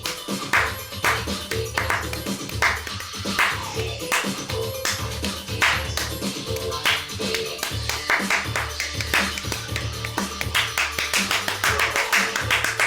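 Rhythmic clapping on a played-back clap track, a dense run of sharp claps at a quick steady beat, with a voice talking over it.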